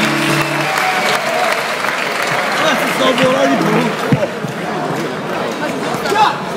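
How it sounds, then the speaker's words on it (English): A large audience at a concert at Groezrock 2012 claps steadily for several seconds, a dense, sustained wash of applause with a few voices and cheers mixed in. "round of applause"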